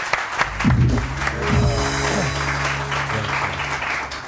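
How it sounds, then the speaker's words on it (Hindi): Studio audience on a Pakistani morning TV show bursts into broad, steady applause, with low sustained musical tones underneath throughout. "आपके लिए बहुत सारी तालियां"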